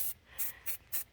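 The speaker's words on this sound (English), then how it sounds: "I'm just going to spray it on the top of the water" Spray paint hisses onto the surface of cold water for hydro dipping Crocs in four short, even bursts, close and clear.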